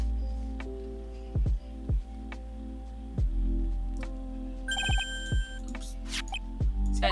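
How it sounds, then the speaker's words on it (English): A phone ringtone plays inside the Phoenix Wright: Ace Attorney video game: a short, bright electronic melody of sustained tones, with game sound effects and low thumps around it. "What kind of ringtone is that?"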